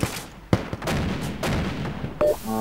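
A Kalashnikov-style rifle fires during a team shooting game at Tushino, heard as a couple of sharp, fairly close reports over outdoor rumble, with a brief electronic beep at the end.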